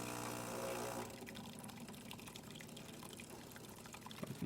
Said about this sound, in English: As you can see, good water flow.